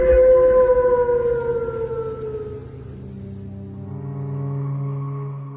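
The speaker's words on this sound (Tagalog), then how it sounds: "marinig ang malakas na alulong ng aso" A dog howls loudly in long drawn-out wails that slide slowly downward, sustained and near, with a lower mournful tone carrying on toward the end and no voices.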